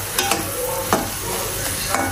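Chicken liver frying in spice paste and chillies, a loud close sizzle with several sharp spoon scrapes against the pan and no talk.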